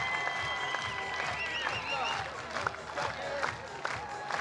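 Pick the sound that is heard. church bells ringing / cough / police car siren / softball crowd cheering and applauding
softball crowd cheering and applauding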